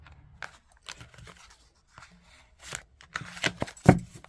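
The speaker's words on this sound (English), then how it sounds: "let's give my cards a shuffle" Tarot cards are shuffled by hand, giving soft, irregular riffling and clicking sounds that grow louder and busier toward the end, with no talking.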